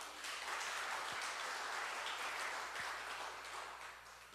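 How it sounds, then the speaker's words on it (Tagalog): An audience at a church lecture applauds in a continuous, moderately loud wash of clapping that fades slightly toward the end. "Palakpak."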